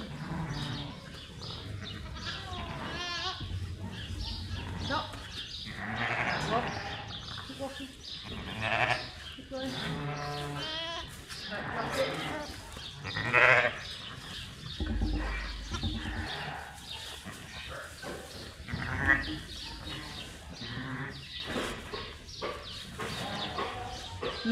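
Sheep and lambs bleat in a lambing shed, with calls scattered throughout at close to moderate range while people talk over them and move among the pens.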